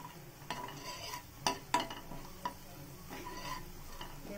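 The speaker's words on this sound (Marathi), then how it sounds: "मसाला असा छान भाजून घ्यायचा ह्याच्यात।" Ground masala roasts in oil in a hot kadhai with a soft, low sizzle and a few sharp clinks and scrapes from stirring, quiet and close, without any talk.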